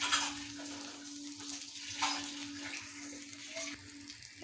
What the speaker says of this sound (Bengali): এবারে তেল গরম হয়ে গেছে, ফোড়নে দেব কালো জিরে, দিয়ে দেব কাঁচা লঙ্কা